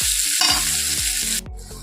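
A spoon stirs and scrapes through mashed vegetables frying in a wok (kadai) for a bharta seasoned with salt and turmeric, with a steady close sizzle and repeated dull knocks of the stirring.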